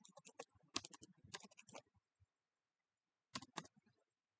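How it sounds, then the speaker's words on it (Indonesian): Keys tapped on a computer keyboard while entering a database command, a quick run of close, crisp keystrokes, a pause, then a couple more taps. "kita langsung saja mengetik perintah yaitu select from"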